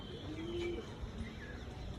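Pigeons flying overhead give a soft, low coo, a brief murmuring call that sounds fairly faint against a quiet outdoor background.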